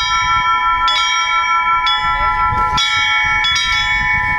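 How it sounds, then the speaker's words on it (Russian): Church bells ring out at an Orthodox Easter celebration, where visitors take turns as bell ringers, with repeated clanging strikes over about four seconds and a sustained ringing hum, alongside outdoor crowd murmur. "колокольный звон привлекал внимание случайных прохожих и жителей близлежащих домов"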